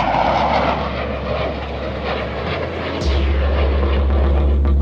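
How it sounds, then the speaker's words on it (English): A fighter jet roars loudly overhead, a broad continuous engine rush that holds steady and then shifts pitch as it passes, with no voices over it. "Well, fighter jet."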